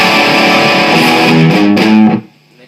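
A distorted electric guitar plays a short, fast riff, loud and close, with notes tumbling quickly before a sudden stop leaving a brief faint ring.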